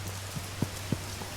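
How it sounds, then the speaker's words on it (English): Steady rain falls in the video game Schedule 1, a soft, even hiss of drops with a few slightly louder patters standing out, heard alone with no talking. "Bro, is it raining now?"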